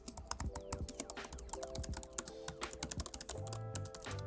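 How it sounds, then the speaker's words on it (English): Rapid, steady typing on a MacBook laptop keyboard, close up, a quick run of light clicky keystrokes with no one talking. "Both laptops have the exact same keyboard, which includes key size, travel, and even sound."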